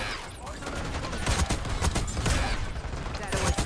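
Continuous rapid gunfire from a pizza gun in Black Ops 6, a steady stream of punchy shots mixed with game effects throughout, with a voice talking over it.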